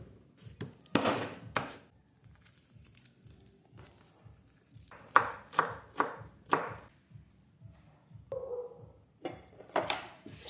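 Knife chopping eggplant on a cutting board in a home kitchen, a series of crisp, quick taps in uneven bursts, close and fairly quiet.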